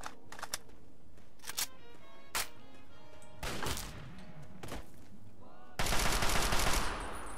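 Minigun fire in Fallout 3, heard as short bursts of rapid gunfire and sharp cracks spaced through the span, ending in a louder, sustained burst near the end.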